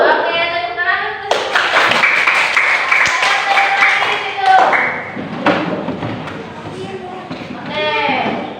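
Children in a classroom clap their hands together in a lively burst of applause, sharp and close, with some rhythmic claps and thumps, framed by a teacher speaking before and after.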